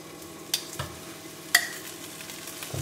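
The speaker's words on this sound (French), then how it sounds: "Je vais faire cuire les petites crevettes." Small shrimp fry in a pan, giving a quiet, steady sizzle broken by a few sharp clinks and scrapes of a utensil being stirred.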